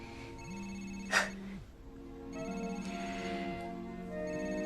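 A telephone rings in a quiet indoor scene, a steady electronic warble in repeated bursts with one sharp click partway through; no one speaks.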